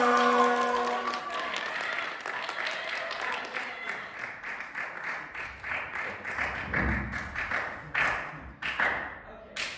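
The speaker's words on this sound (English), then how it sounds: "let's give a big old boo for Delaware, and then a big old cheer for Graham" Youth retreat crowd in a chapel building cheering and clapping, a loud dense burst at first that thins into scattered claps, thumps and shouts toward the end.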